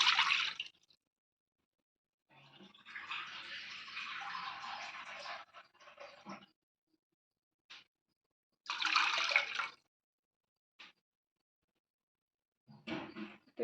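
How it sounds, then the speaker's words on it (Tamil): Water poured into a cooking pot while making semiya kesari, a vermicelli sweet: a sustained splashing pour, then further short pours and drips in separate bursts, close by with no talk. "இப்போ நம்ம அதே பாத்திரத்தில் தண்ணி 2 கப் ஊற்றிக்கலாம்"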